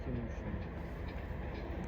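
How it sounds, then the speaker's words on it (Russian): A passenger train from Saint Petersburg to Labytnangi rolls past close by in the Komi Republic, a steady heavy rumble and rattle of carriages that holds at an even level throughout. "Это у нас поезд Санкт-Петербург, Лабытнанги."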